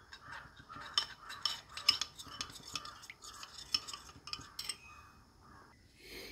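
A spoon scrapes and clinks around a bowl as cornflour is stirred into coconut milk, giving close, irregular swishing and light tapping strokes with no talking.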